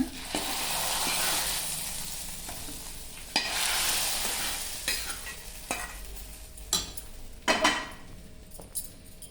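Hot tempering poured into black peas sambar sets off a loud, close sizzle that gradually fades, followed by scattered clinks and scrapes of a spoon stirring the pot.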